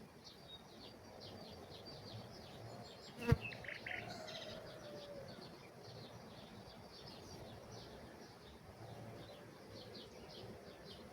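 A bee swarm inside a tree stump gives off a steady, faint buzzing hum while building comb, with occasional insect buzzes and a brief knock, no talking.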